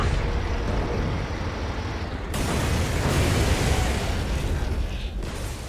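Artillery shells explode in the WWII strategy game Codename: Panzer Phase One, loud rumbling blasts and a heavy continuous roar filling the whole clip without talk.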